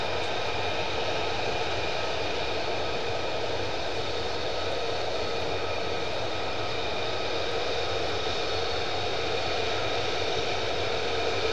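Military jet engines idle at RAF Lakenheath as a steady, loud, unbroken roar with a high sustained whine laid over broadband rumble, holding constant throughout with no voices.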